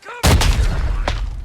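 A grenade goes off in the Arena Breakout shooter game: a sharp, loud boom followed by a short rumbling tail and a second thump about a second later, heard up close.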